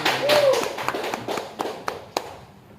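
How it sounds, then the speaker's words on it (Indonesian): Scattered hand clapping from a small group at a seaside village anti-corruption gathering; a brief burst that thins into a few isolated, distinct claps, with a faint voice near the start. "Tepuk tangan bagi kita semua"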